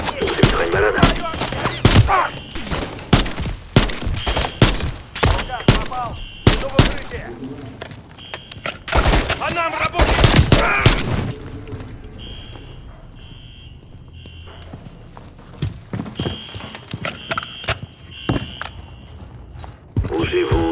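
Rapid bursts of gunfire from Call of Duty Modern Warfare 3 ring out around a skyscraper level, loud and dense through the first half, then thinning to scattered shots alongside game sounds and voices.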